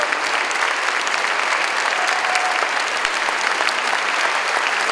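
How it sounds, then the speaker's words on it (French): Audience applause at a round-table talk on robots: dense, steady clapping from a large crowd, loud and sustained throughout without a break. "je voudrais que vous applaudissiez Alexandre Mazel"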